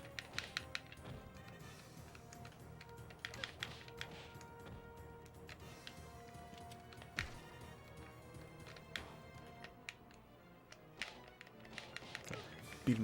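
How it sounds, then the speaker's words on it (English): Sega Saturn controller buttons mashed rapidly, giving a fast, irregular patter of small plastic taps under loud, continuous game music. "You can hear me smashing these controller buttons."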